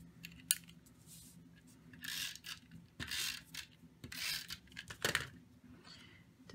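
A snail tape runner applying adhesive to a card, a series of short rasping, peeling strokes in bursts, close and fairly quiet, with a small click at the start.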